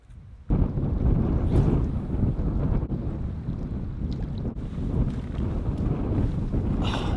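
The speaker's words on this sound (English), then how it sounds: "It's really windy out right now." Strong wind buffets the microphone outdoors on open water by a boat during a solo camping and fishing trip, a loud steady roar with gusty swells and no speech.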